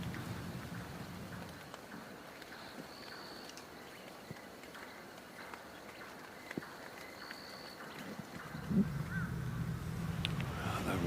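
Steady rain falls on an outdoor golf course during an amateur championship round, a soft continuous hiss with scattered drops, fairly faint, with no voices.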